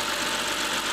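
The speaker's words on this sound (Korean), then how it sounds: "일단 시동은 한 번에 걸렸고" A BMW F10 528i with the N52 inline-six, under repair for a broken VANOS solenoid bolt, running at idle: a steady, close engine hum with no talk over it, only a brief moment.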